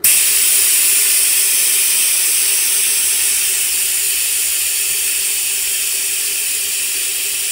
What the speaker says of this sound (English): I'm releasing the valve in